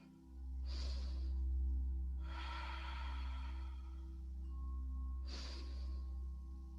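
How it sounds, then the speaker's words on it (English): Slow, deep breaths during a beginners' yoga balance exercise, three broad airy inhales and exhales with a long one in the middle, close and soft over a steady low hum. "Deep breathing."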